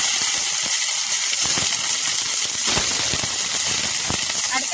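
Sliced onions frying in hot oil with cinnamon and fennel seeds, cooking for a prawn gravy: a steady loud sizzling hiss with scattered crackles and pops throughout.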